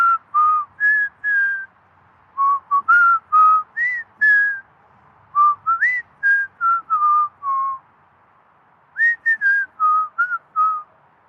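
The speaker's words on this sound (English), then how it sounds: "Try to guess the song I'm whistling." A person whistles a song tune alone, clear and close, in short melodic phrases with brief pauses between groups of notes.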